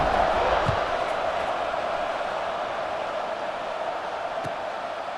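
A steady, broad roar from a large stadium crowd in EA Sports College Football 26, sustained and even throughout with a couple of faint thuds, no clear individual voices.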